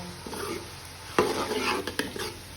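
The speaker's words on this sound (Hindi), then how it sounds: "टमाटरों को भी अच्छी तरह से इसमें रोस्ट करेंगे जब तक ये टमाटर बीच में अच्छी तरह से मिक्स ना हो जाएं" Tomatoes roast in a pan for aloo palak, stirred with soft scraping strokes over a low sizzle, with a couple of sharper utensil knocks against the pan.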